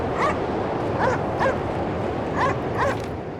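A dog in the video game Cryostasis, set at an Arctic polar station, barks and yelps about five times in an uneven rhythm, moderately loud over a constant low background hum.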